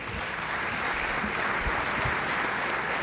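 Steady, dense applause from an audience at a mayor's interfaith prayer breakfast in Pasadena, welcoming dignitaries; continuous broadband clapping throughout, fairly close and sustained at even loudness.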